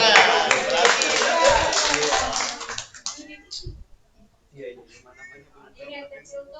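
A seminar audience in a lecture hall gives a short, dense burst of clapping that fades after about three seconds, followed by scattered quieter sounds and some talk.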